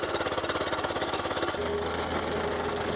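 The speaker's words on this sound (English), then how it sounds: "We've seen whacker plates used before and it always looked pretty simple, so the fact it took us a while to even get this thing going did not bode well" A whacker plate compactor runs on a driveway laid over old hardcore, giving a loud, fast, steady pounding rumble that continues without a break.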